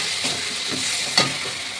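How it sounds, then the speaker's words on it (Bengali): A paste of cashews, tomato and garam masala fries in a pan, a steady close sizzle with a couple of soft stirring scrapes and one sharper pop midway. "মশলাটা একটু ভাজা ভাজা করে নেব।"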